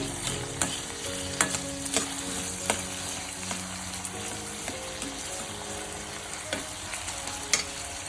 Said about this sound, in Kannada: ಎರಡು ಈರುಳ್ಳಿ ಸಣ್ಣ ಸಣ್ಣ ಈರುಳ್ಳಿನ ನಾನು ಸಣ್ಣದಾಗಿ ಕಟ್ ಮಾಡ್ಕೊಂಡಿದ್ದೀನಿ ಈಗ ಇದು ಸ್ವಲ್ಪ ಫ್ರೈ ಆಗಬೇಕು